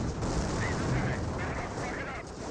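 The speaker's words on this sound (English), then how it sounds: "mortar in place got a good hit there on the rifleman" Mortar shell impacts and gunfire in a Company of Heroes battle, a dense continuous roar of combat with muffled blasts throughout, loud and sustained.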